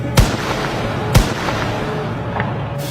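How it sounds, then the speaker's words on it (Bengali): Two sharp gunshots from police rifles near a university main gate, cracking about a second apart over steady crowd and street noise, with a fainter pop afterward. "আবারও গুলির শব্দ।"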